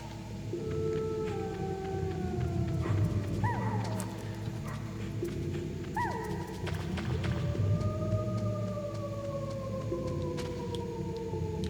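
Dogs howl in the Metal Gear Solid video game, several long wavering howls that rise and slide down in pitch, overlapping at moderate volume over a low steady game ambience.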